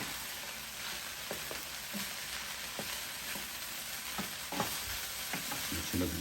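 Spam fried rice being stirred in a Power XL cooker: a constant crackling sizzle broken by intermittent scrapes of the utensil, close and moderately quiet, with no talking.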